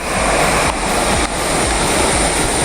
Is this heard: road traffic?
no